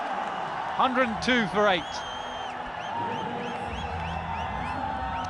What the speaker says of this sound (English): Well, it gets a huge cheer.